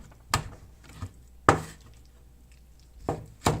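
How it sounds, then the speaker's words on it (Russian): A knife cuts raw chicken breast into portion pieces on a cutting board, giving five sharp, separate thuds at irregular intervals, close and fairly loud with quiet between them. "Грудку также нарезаем на порционные кусочки."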